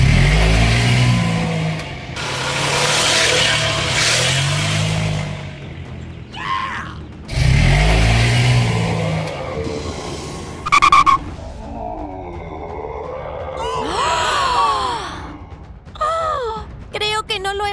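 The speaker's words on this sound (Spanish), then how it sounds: "¡Mamá, date prisa y arranca el coche!" A cartoon car engine starting and driving off: bursts of loud, rough revving separated by brief gaps, then squeaky, warbling cartoon effects, with a voice speaking in between.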